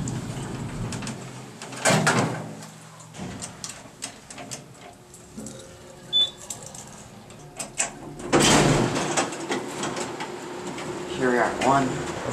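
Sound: Otis elevator doors sliding and car moving

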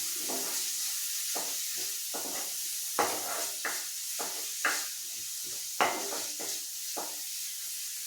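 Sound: onions being sautéed and stirred for rava chicken biryani

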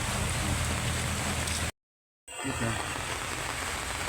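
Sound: rain falling in Mindanao

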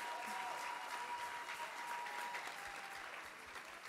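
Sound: applause, clapping for Jesus

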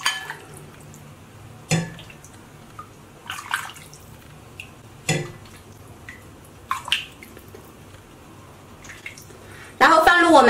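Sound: ladling hot broth into a bowl

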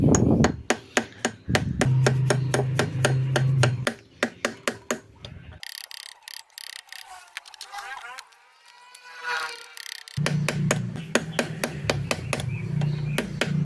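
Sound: hammer tapping on steering ballrace

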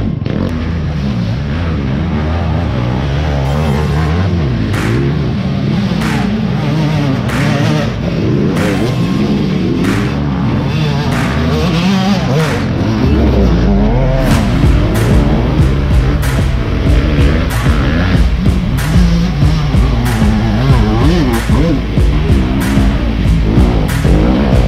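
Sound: dirt bikes racing at a hare scramble hill climb

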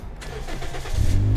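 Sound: car engine starting

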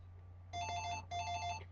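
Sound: telephone ringing

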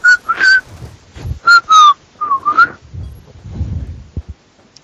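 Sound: person whistling in Black Ops 2 voice chat

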